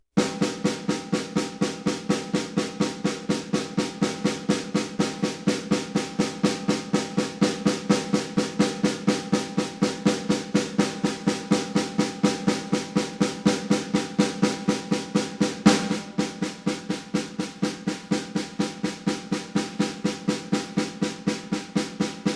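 Snare drum exercise of evenly spaced sixteenth notes played slowly with alternating sticks, a steady unbroken stream of crisp, close strokes with slight hand-to-hand differences in level, no talking over it.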